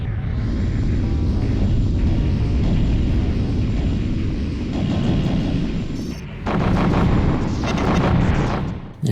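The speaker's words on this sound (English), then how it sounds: "I just ate a missile there" Heavy rumbling blasts and booming missile impacts in space combat in the video game Colony Wars, continuous and loud, with a sharp break before another dense burst of explosions.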